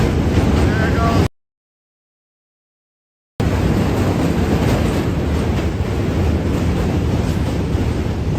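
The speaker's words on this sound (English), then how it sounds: "Trains, you can't hear anything." Trains rumble past near the Manhattan Bridge as a loud, dense roar fills the air, briefly cut to silence before the heavy noise returns.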